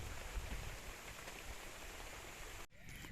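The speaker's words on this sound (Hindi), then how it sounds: "बारिश में ही बैठे हैं अपनी झोपड़ी में" Rain falls on a hut beside farm fields, a steady dense hiss of drops on the roof that continues without break, with a brief cut near the end.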